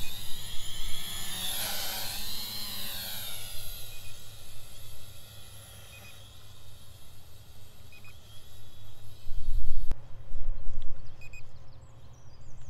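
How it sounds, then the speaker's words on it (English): A camera drone flies over Falmouth in Cornwall in strong wind, its high buzzing whine rising and falling as it strains against gusts, with heavy wind rumble battering the microphone. "I was going to send the drone up today to get some nice shots of Falmouth and the beach areas and everything, but I think it is too windy."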